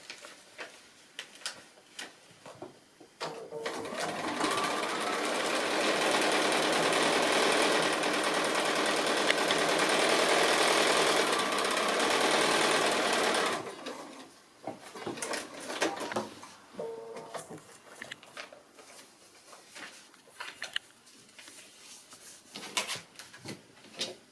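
Home sewing machine stitching a foundation-pieced quilt block seam, running steadily at close range for about ten seconds, then stopping, followed by scattered fabric handling and small clicks.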